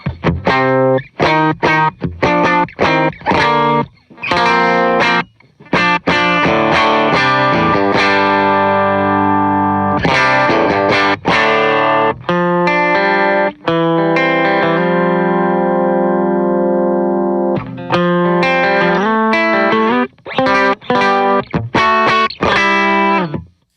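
Electric guitar played through a Tone Era pedalboard set for a warm, classic balance, with distortion, chorus and echo. Chords and single notes ring out loud and sustained, with no talking.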